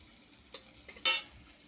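Cumin seeds and a bay leaf sizzle in hot oil while being stirred for a potato and pointed gourd curry, two quick scraping stirs over a faint steady frying hiss.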